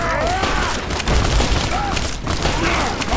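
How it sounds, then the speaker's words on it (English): Grenade explosions in Fallout TTW, as rolling booms and bursts of combat noise fill a loud, continuous dense roar, with a voice speaking under the din. "Ah, grenades."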